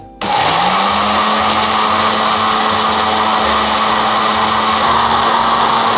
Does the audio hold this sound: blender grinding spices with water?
yes